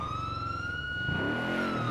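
Police siren wailing in the GTA 5 LSPDFR mod, a steady high tone sustained throughout, loud and close, with a rumbling vehicle engine rising underneath toward the end.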